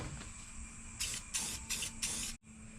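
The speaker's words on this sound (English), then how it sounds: "Just be careful when you're spraying it. It comes out really fast." Aerosol can of rust coating sprayed onto a truck's rocker panels in four short, loud hissing bursts, each about a third of a second long, over a low steady hum.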